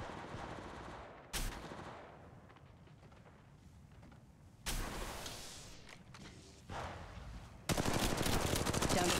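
An enemy squad fires on the player in Apex Legends Mobile: loud automatic bursts break out in four separate volleys, with quieter rumbling ambience in the gaps between them and the heaviest burst at the end.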